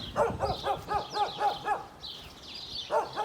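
A dog barks in a quick run of six or so yaps, pauses, then barks again, fairly distant, with birds chirping faintly in the background.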